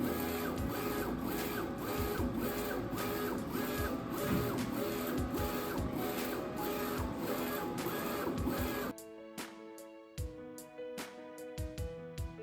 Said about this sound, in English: When the RIP picture progress bar is full, the machine will start printing.